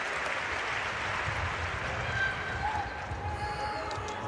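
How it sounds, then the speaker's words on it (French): Stadium crowd at a French women's first-division football match, Stade de Reims against Olympique Lyonnais, applauding as a broad, distant wash of clapping under a faint commentary voice and steady crowd murmur. "Tullis-Joyce et le public qui applaudit"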